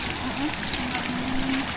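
Irrigation water flows through a rice field at harvest time, a steady close wash and trickle with no pauses.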